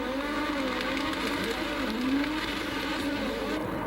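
Formula 1 cars roaring away from the grid at the 1986 Spanish Grand Prix race start at Jerez, a dense, steady blare of high-revving engines with pitch sweeps, continuous and loud throughout.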